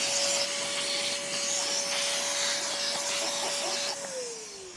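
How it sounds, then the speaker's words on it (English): A vacuum cleaner runs steadily on used Tesla Model Y floor mats that have covered 50,000 miles, a loud constant whine with rubbing scrapes, then its motor pitch drops as it winds down near the end. "vacuum them up"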